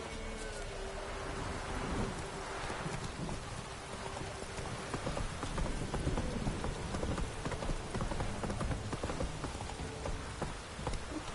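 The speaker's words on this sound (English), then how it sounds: "A storm, damn it." A thunderstorm in The Witcher 3 video game, with steady heavy rain hissing and pattering throughout and low rolls of thunder in the background, no voices.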